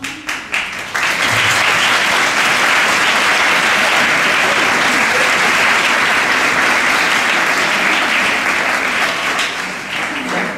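An audience applauds an Indian dance group at an evening charity show, a loud, dense wall of clapping that swells in after a brief opening and holds steady, fading slightly at the end.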